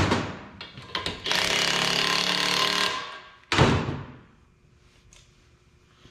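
A few sharp metallic taps of a hammer on a Cummins 5.9 12-valve diesel engine part during teardown, then a long loud grinding burst and another heavy strike that fades away, with no voices.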